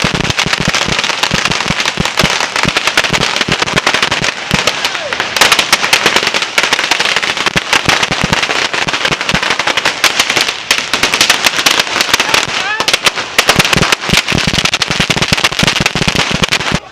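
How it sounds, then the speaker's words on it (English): Dense, relentless barrages of firecrackers burst at a Phuket Vegetarian Festival parade, loud and close, the rapid cracks packed together without pause from start to finish, crowd noise buried beneath. "The sheer volume of firecrackers that have been thrown in the past few minutes is just"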